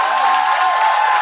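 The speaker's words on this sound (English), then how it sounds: "That gets a round of applause." A brief, loud burst of audience applause and light cheering, steady and close, lasting only a moment.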